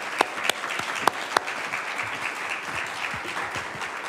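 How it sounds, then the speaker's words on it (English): Audience applause closing an evening lecture and Q&A: a steady crowd of hands clapping throughout, a handful of louder nearby claps popping out early, with no talk over it. "One more round of applause, everyone."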